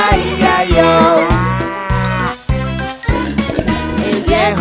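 A cow moos in a Spanish-language children's farm song: sung, strongly pitched moo-like notes over a bouncy, rhythmic musical backing, loud and up front.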